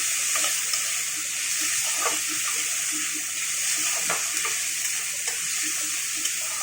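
Onions and tomatoes fry in a pan with a steady, soft broadband sizzle, punctuated by light clicks and scrapes of stirring, with no talking.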